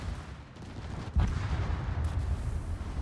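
A torpedo strikes a warship in a naval battle game, a sudden heavy low boom after a quieter stretch, followed by a sustained rumbling of battle noise.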